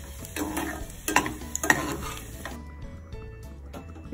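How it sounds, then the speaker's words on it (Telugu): Cashews and raisins fry in ghee in a pan while being stirred, a soft sizzle broken by scraping and clinks of the spoon, close. The sizzle fades out after a few seconds. "నెయ్యి వేసి జీడిపప్పు వేయించుకోవాలి. ద్రాక్ష కూడా వేసి వేయించేసుకోవాలి."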